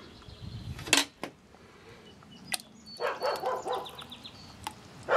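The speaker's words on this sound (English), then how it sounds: "Neighbor's dog, hello." A neighbor's dog barks outdoors in an orchard setting, with a couple of sharp isolated barks early, then a cluster of rapid barking later, moderately distant and fairly loud over quiet background.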